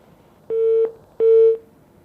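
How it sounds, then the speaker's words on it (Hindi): Electronic tone marking a dropped phone call on a live call-in show, two short steady beeps in quick succession, loud and clean with no voices. "कॉल ड्रॉप हो गई है"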